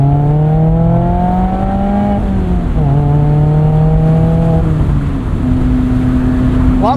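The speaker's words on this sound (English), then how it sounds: "Doesn't pull as hard revving it out to redline as it does in the S2000" A Mazda MX-5 Miata ND3 engine revs up through the gears, each rising pull climbing steadily before dropping at the shift, loud and close from inside the car.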